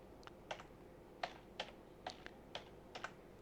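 Keys tapped on a computer keyboard while typing into a Microsoft Word table, about a dozen sharp, close clicks in short irregular bursts over a quiet room.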